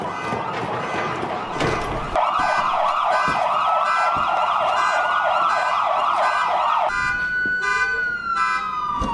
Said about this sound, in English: the sound of patrol car sirens is heard